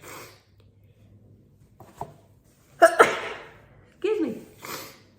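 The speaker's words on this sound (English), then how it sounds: "About to sneeze." A woman sneezes indoors: a quiet breath, a small catch, then two sharp, close, loud bursts followed by a softer trailing exhale, heard alone without talking.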